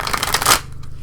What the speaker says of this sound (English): Let me do one quick shuffle.